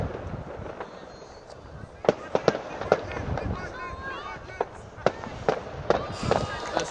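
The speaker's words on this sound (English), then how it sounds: "Explosions going off everywhere." Fireworks and firecrackers bang repeatedly near a university football match, sharp scattered cracks at varying distances over a continuous outdoor background with crowd murmur and occasional voices.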